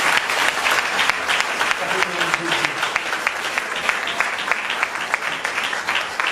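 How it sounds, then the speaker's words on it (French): A church congregation breaks into loud, sustained applause in thanks to God, dense rapid clapping filling the room while voices murmur and call out beneath it. "On dit bon Dieu merci à un applaudissement."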